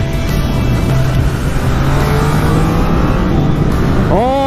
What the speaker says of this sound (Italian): Vediamo un po' se col tre cilindri ci divertiamo lo stesso